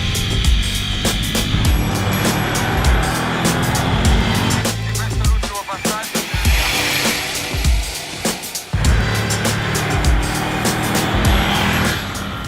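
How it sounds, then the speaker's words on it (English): Ducati Monster 797 motorcycle out on a test ride, a loud engine drone with rising and falling revs and wind rush heard close up for the whole stretch. "we got in our riding gear, and we went straight out and took this bike on a test ride"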